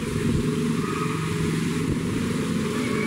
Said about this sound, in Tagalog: Kayang-kaya ng tricycle, oh, kasi mababaw na, no?